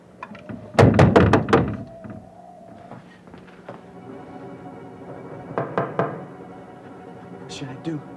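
A burst of firm knocks on a door, a quick run of heavy thuds followed by a softer second series of raps, with people talking quietly around them.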